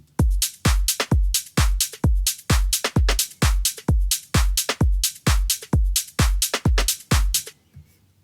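A steady looping drum pattern built from a punchy kick, hi-hats, a snare and a clap, pounding in an even rhythm with strong low thumps, running alone until it stops near the end.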